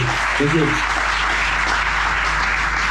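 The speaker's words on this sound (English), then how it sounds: "Can we have another round of applause, please, for Space 92?" Audience applause for a techno producer at a production masterclass in Amsterdam, a dense, steady wash of many hands clapping that holds evenly throughout.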